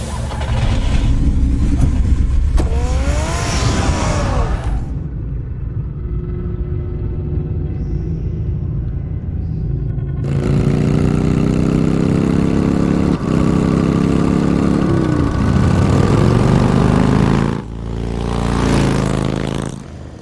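A car engine in the Batman Telltale video game revs and idles, loud and close, running under game sound effects with a brief quieter gap midway and rising revs again toward the end.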